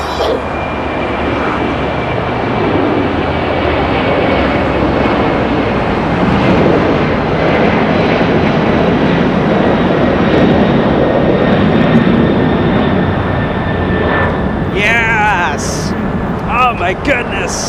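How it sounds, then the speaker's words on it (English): A Boeing 747 jet airliner roars steadily through a takeoff at Los Angeles, a loud, sustained, broadband engine rumble heard from the ground that holds for the whole stretch, with brief voices breaking in near the end. "I think that was my favorite takeoff for today"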